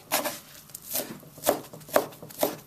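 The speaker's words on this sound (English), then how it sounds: "So that's why I cut everything very small" A knife chops vegetables for a Tibetan momo meat filling on a cutting board, about six crisp, evenly spaced strikes heard close and alone.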